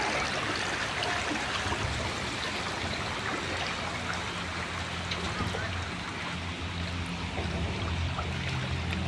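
Flood water surges fast through a flooded orchard, producing a dense, continuous rushing roar that stays loud and steady from start to finish.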